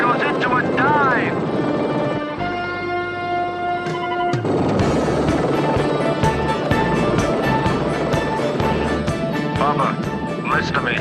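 A helicopter in a film scene thrums steadily in the air with a continuous rotor chop, loud and near, while voices speak over it.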